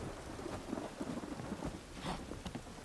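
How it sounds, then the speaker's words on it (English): A thunderstorm in The Witcher 3: Wild Hunt, with steady heavy rain hissing throughout and low rolling thunder rumbling underneath, filling the scene at a moderate level with no voices. "A storm, damn it."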